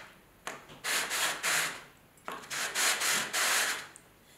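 A fired stoneware pottery vase being sanded by hand, with two long bursts of steady abrasive rubbing, each made of several close strokes, loud and near with no talk.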